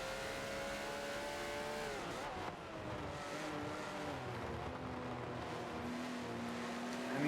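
A Porsche and a BMW racing at Spa-Francorchamps in a sim racing 24-hour event, engines droning and shifting pitch as they brake and accelerate, a steady, faint mechanical roar throughout with no talk.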